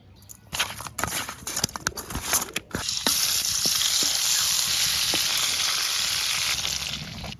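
Koi fish fried in oil with turmeric and salt gives a close, continuous sizzle, first broken by scattered clinks and taps of handling, then settling into a full, even hiss.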